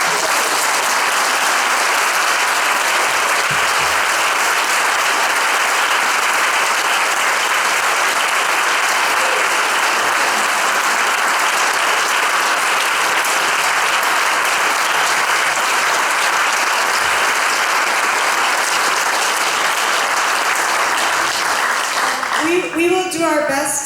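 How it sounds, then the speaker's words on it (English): Sustained loud applause from an audience thanking a panel of speakers, dense steady clapping filling the room for about twenty seconds before tapering off at the end. "These are a huge round of applause."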